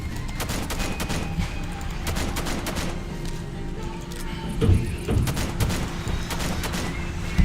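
Left 4 Dead 2 weapon sound effects, steady rapid gunfire with occasional heavier blasts, fairly close and mid-level in loudness, with faint voices now and then.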